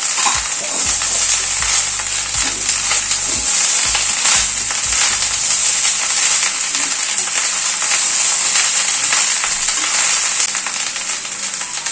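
Cashews, raisins and chhana balls stirred into pulao in a pan, a steady sizzle with scraping and clinking of the spoon against the pan, close and constant, no talking.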